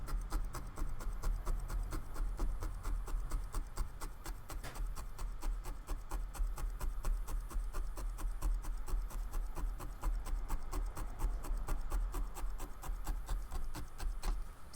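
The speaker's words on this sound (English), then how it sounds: "I am just surface scraping here, trying to make some adjustments on placement" Steady close rasping and rubbing as a felting tool scrapes across the surface of a needle-felted wool picture, a dense, continuous scratchy texture with fine repeated ticks running throughout and no talking.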